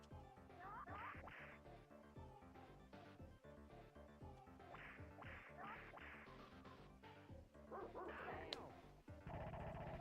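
A dog in a retro video game barks in several short bursts over bouncy chiptune music, one near the start, another midway and a sharper one toward the end.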